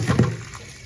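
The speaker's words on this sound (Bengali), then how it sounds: "তো চলো এগুলো আমি ধুয়ে ফেলি" Tap water splashes briefly over dishes being washed, a short close burst of running water that fades away quickly.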